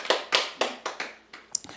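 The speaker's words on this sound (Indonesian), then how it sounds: "Tepuk tangan buat firman Tuhan." Church congregation applauding after a sermon, giving a few separate bursts of clapping that each fade quickly, close and fairly loud.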